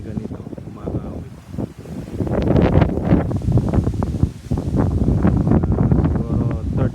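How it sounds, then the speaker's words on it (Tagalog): Strong, gusty wind buffets the microphone outdoors under a clear sky, a steady roaring rush with rustling that swells and dips over several seconds, loud and close throughout. "Talagang mahangin na."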